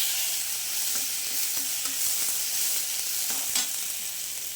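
Onions and green chillies sizzle steadily in a hot pan for a Chettinad okra pachadi, with a continuous frying hiss broken by a few soft spoon scrapes as the mixture is stirred; no one talks.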